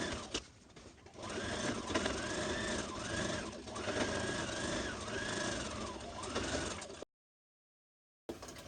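A sewing machine stitches canvas into place on a red zip-front jumpsuit, running steadily and close for about seven seconds before stopping dead, then a brief sound resumes.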